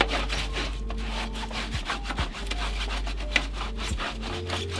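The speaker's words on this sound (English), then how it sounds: "I use one side for each floor mat, and I'm just going to take it, rub it," A towel rubs back and forth over a car floor mat, a close, continuous scratchy scrubbing with a steady texture, a few light knocks and no voices.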